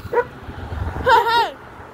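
A dog gives a brief yip early on, then a longer, higher whining cry, both moderately faint over low background rumble.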